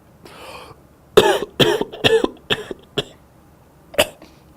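A person coughs several times in quick, harsh bursts, close and loud, with short gaps between fits and a final cough after a pause.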